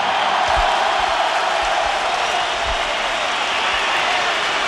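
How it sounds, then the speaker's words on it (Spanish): A stadium crowd of about 18,000 at the Germán Becker stadium gives a sustained ovation, a dense, steady wash of applause and cheering that holds at an even level throughout. "Esa es la ovación de un público que esta noche se ha desbordado sobre el estadio Germán Becker"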